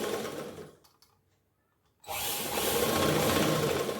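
An electric sewing machine motor used for home tailoring whirs at close range, drops to near silence for about a second, then starts again and runs continuously at a steady loud hum.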